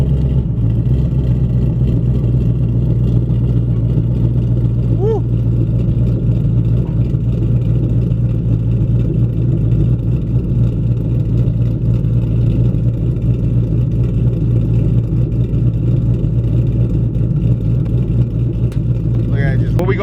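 A naturally aspirated Ford Boss 302 V8 running on E85 ethanol, with a cam tune and free-flowing exhaust, rumbles steadily and loudly throughout with a choppy idle, with no clear revving surges.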